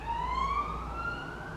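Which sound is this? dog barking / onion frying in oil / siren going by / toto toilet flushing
siren going by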